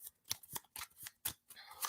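Companion cards for a board game are shuffled by hand in quick, crisp riffling bursts, about seven short snaps in under two seconds, close and fairly quiet.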